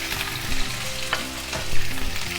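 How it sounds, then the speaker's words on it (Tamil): Red, yellow and green bell peppers stir-fry in a hot pan, a loud, close, continuous sizzle with scraping stirs throughout and no one talking. "வச்சு நல்லா மிக்ஸ் பண்ணிக்கலாம்."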